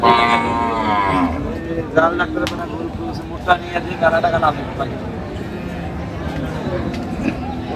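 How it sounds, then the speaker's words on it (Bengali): Cows and calves low repeatedly at a busy rural cattle market, Amabari haat in Dinajpur. Loud nearby moos rise over a murmur of crowd chatter and people talking close by. "গাভী বাছুর আমরা দেখছিলাম।"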